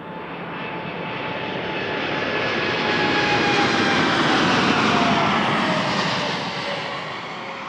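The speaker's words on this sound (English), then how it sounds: "Look at that wing flex. Beautiful Dreamliner." A Boeing 787 Dreamliner airliner passes at Toronto Pearson Airport, a loud broad engine roar that swells toward the middle with a faint descending whine, then slowly eases off.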